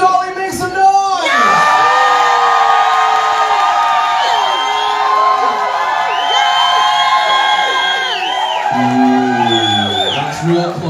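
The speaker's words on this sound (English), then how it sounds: "Or if you would like to see Demon Dolly make some noise," A crowd at a drag competition finale erupts in loud whoops, yells and screams for a contestant, sustained close and dense for most of the stretch, with a voice starting to speak over the dying noise at the end.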